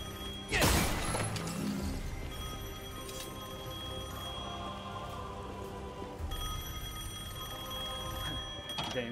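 A telephone rings in the action video game Devil May Cry 5, a shrill metallic bell opening with a sharp crash, then steady repeated ringing over a low game background hum.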